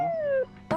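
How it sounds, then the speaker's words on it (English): Dogs in the video game Tales of Berseria let out a long falling whimper followed by a short high yelp, close and plaintive. "They've been whimpering like this for an hour now."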